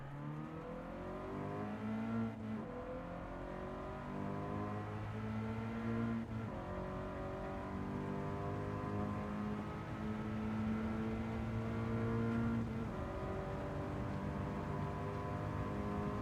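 A race car engine revs in a driving video game, a steady tonal drone that climbs and drops in pitch through repeated gear shifts, loud and continuous with no talk.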